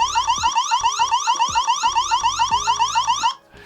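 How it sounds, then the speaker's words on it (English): A Wyze Cam Pan V3 security camera sounds its siren, a loud, rapid, warbling electronic alarm pulsing steadily for over three seconds before cutting off abruptly. No talking is heard. "it has a siren, which is fairly loud"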